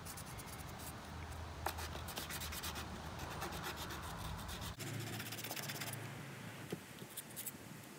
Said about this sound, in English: you can also begin to sand off the coating on your screws